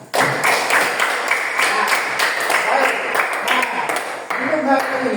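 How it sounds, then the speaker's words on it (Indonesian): A classroom of students clapping their hands together, a dense burst of close, sharp claps with a brief pause before a final round, with some voices mixed in. "Baik, tepuk tangan."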